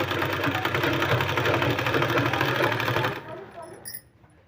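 A sewing machine runs steadily as it stitches a folded two-inch fabric strip for a sleeve design, a loud, close, rapid mechanical whir that stops abruptly about three seconds in, leaving faint handling noise.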